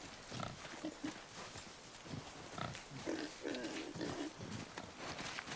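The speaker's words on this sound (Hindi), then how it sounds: "चमकीला सा सुअर है" A glowing boar in the video game God of War grunts and snorts repeatedly at close range over a busy background of game sound effects and music.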